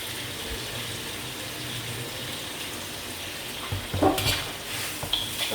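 Mutton curry is stirred in a pan while it quietly sizzles, and a few louder scraping clatters from the utensil come near the end.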